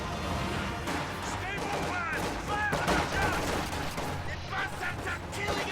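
Sniper gunfire in a strategy video game: scattered sharp cracks and overlapping shots crackle through a busy battle mix, with a voice talking over the action.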